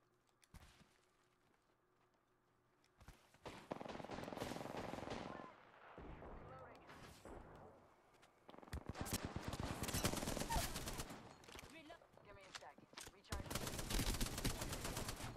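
Rapid automatic gunfire from a shooter in the Apex Legends battle-royale game, loud bursts coming in several long volleys with quieter gaps between them.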